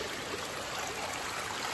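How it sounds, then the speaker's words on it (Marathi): Heavy monsoon rainwater rushes along a village path in Konkan, a steady, dense, close-up gushing and splashing flow with no pauses and no voices. "पाणी बघा किती आलं आहे, साध्या वाटेला पाणी एवढं आलं आहे"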